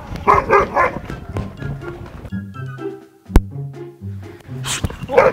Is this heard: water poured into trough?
no